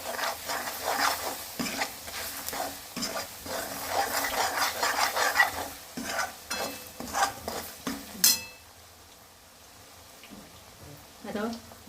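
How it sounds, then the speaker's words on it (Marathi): Masala of garlic, cumin and coconut sautéing in oil for a dhopachya vadi bhaji, with a spoon scraping and stirring through steady sizzling under a voice, then a clatter and quiet. "आपण मसाला छान तेलामध्ये परतून घेऊ"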